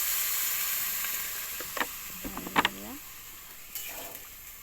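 Water poured into frying potato masala in a pan, a steady sizzle with a few short clinks and splashes partway through, while a voice speaks briefly over the hiss.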